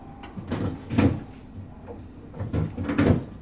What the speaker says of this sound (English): And so close the drawer.